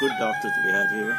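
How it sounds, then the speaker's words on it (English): A rooster crows in the background, a drawn-out call running beneath a man's speech throughout. "Yeah, I heard rooster crowing."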